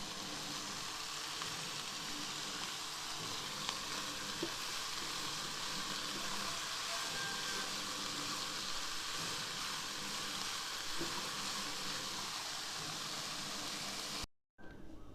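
Tofu filling and vegetables are stir-fried in a pan, giving a loud, steady sizzle that carries on without a break for about fourteen seconds before cutting off abruptly.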